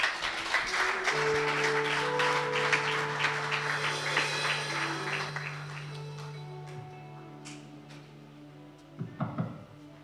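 Applause at a ceremony honouring former choir members, a dense clatter of clapping that gradually thins out and fades, with a sustained tone underneath and a few scattered thumps near the end.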